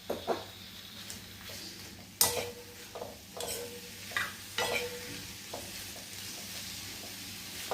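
Two or three cut onions fry in a pan for a masala for katachi amti, a soft steady sizzle punctuated by several sharp scrapes and knocks of a spatula stirring, fairly close and without speech.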